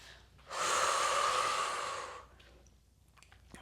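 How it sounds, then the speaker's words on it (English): A single deep, drawn-out breath during a Pilates plank, a breathy exhale of about two seconds close to the mic, then quiet. "Breathing deeply here"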